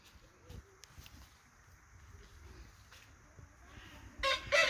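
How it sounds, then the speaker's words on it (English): Backyard chickens cluck softly in the distance across a garden in November, with a louder burst of activity near the end. "if you hear background noise, there's our chickens"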